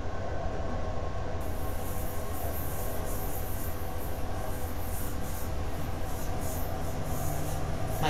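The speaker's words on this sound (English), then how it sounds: "My train is hissing at me." A continuous rumbling Metro North train sound in Train Simulator with a steady hiss layered on top, broad and unbroken throughout, no voices.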